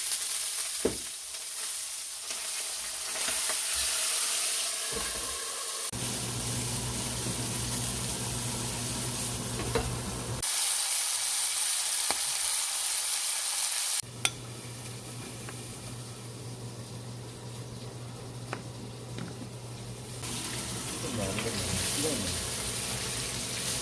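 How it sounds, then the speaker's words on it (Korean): Mackerel frying in a home kitchen pan, a steady close sizzle and spatter running throughout, with a faint low hum and occasional clatter of utensils and stirring. "아빠도 고등어 오늘 처음 구워봐"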